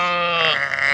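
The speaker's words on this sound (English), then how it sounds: "Black sheep." A black sheep gives one close, loud bleat lasting about a second, a wavering nasal cry heard alone at a farm setting.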